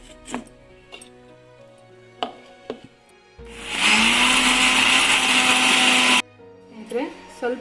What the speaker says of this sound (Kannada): ಈಗ ಗ್ರೈಂಡ್ ಮಾಡೋಣಂತೆ